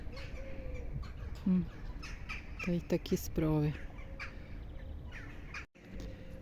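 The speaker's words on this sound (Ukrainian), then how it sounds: "а тут ворони каркають" Crows caw a few times at mid distance near a sanatorium in Ukraine, harsh repeated calls between stretches of quiet outdoor ambience, with a short spoken phrase nearby.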